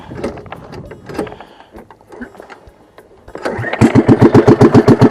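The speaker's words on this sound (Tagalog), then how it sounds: "Paandar muna tayo ng ating bangka" A fishing boat motor sputters, then catches and settles into a loud, steady rhythmic chugging close by, after a few quieter rattling attempts.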